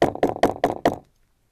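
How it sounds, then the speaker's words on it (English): Five firm knocks on a door land in a steady, evenly spaced rhythm, close and loud, then stop dead into silence. "I get a knock on the door."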